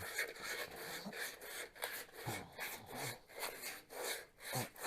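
Rhythmic back-and-forth rubbing of sandpaper smoothing a VW Beetle engine part, steady and close, with repeated abrasive strokes and no talk.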